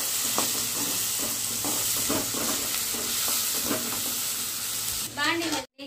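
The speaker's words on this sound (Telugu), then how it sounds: "బాగా ఆయిల్ కాగినప్పుడు అవి వేసుకొని ఫ్రై చేసుకోవాలి. అలానే ఒక పక్క ఆనియన్స్ మొత్తం ఫ్రై చేసుకోవాలి" Onions fry in hot oil with a strong, continuous sizzle, punctuated by regular scraping stirs. A voice cuts in just before the sound ends.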